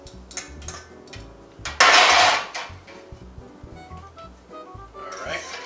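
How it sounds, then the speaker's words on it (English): A metal frying pan is lifted and set back on a kitchen stove, a few clanks and knocks with a loud scraping clatter in the middle, while someone talks throughout. "Now I'm going to lift this pan, see if I can get it back on the stove"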